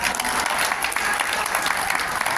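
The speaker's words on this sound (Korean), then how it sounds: "다시 한번 박수 부탁드립니다" At a press conference meeting, the room breaks into a brief, steady burst of applause from the audience, a dense and uniform clatter of many hands.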